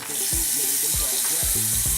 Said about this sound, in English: So you're going to turn on the water again.